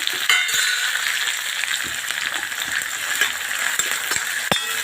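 Tomato added to onions frying in a pan for a bhaji, a loud steady sizzle with scattered clinks and scrapes of a spoon against the pan throughout.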